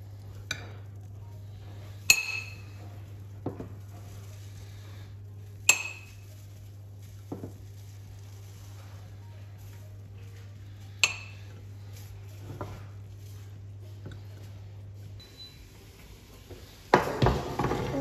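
Plates being set up and rice served onto them, sparse clinks of cutlery on dishes spaced a few seconds apart over a steady low hum, ending in a cluster of louder clatters.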